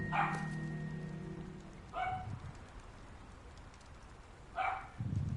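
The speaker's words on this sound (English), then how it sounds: "What in the world is she barking at, bro?" A pet dog named Penny gives short, separate barks with long quiet gaps between them, faint and a little distant against a soft background hiss.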